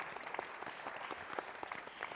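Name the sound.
audience applause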